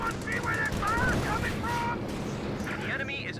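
P-47 aircraft strafing ground troops in the World War II strategy game Company of Heroes 2, a sustained rattle of machine-gun fire and distant battle noise running under excited commentary.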